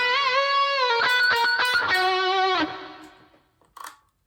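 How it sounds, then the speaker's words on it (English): Distorted electric guitar plays a staccato lick, sharp picked notes with bends ringing loud and alone before fading out, followed by a brief faint pick scrape. "Let me put the distortion back on."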